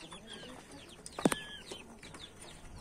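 A black rooster among backyard chickens at roosting time in the evening, giving a brief sharp cluck amid faint scattered bird calls, fairly distant and quiet.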